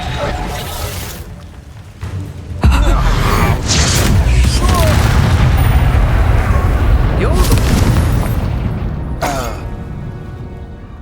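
Reductor blasting curse in Hogwarts Legacy, landing as a heavy booming explosion with rumbling, crumbling debris that carries on for several seconds, loud and close, right after a short spoken spell call.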